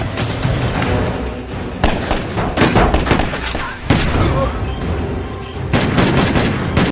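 Tattooed men open fire on a man in an action film scene, rapid bursts of loud gunshots and booms striking in irregular volleys, with faint voices partly beneath the shots.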